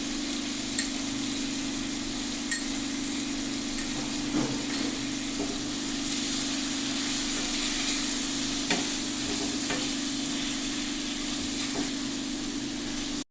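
Onions with chili and coriander powder being sautéed and stirred in a pan for a prawn fry, giving a steady close sizzle under a constant low hum, with occasional scrapes and clinks from the spoon.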